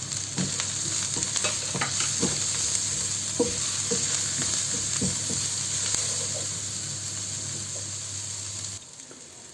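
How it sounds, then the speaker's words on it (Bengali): Onion, garlic, green chillies and ground spices such as turmeric, cumin, chilli and coriander sizzle steadily in hot oil, with close scraping stirs over a constant frying hiss until it cuts off near the end. "পেঁয়াজ ভাজাটা একটু হয়ে আসলে আমি দিয়ে দেবো এবার রসুনের কুচি"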